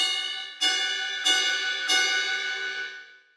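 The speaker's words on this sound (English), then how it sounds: "And then our hot sound would be the ride bell." A ride cymbal bell is struck four times at an even pace, each bright metallic ping ringing out and overlapping the next before fading.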